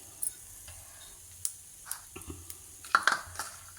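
A Madurai curry dosa frying on a hot pan gives off a quiet, steady sizzle. Scattered close ticks and light scraping clicks punctuate it, with no one speaking.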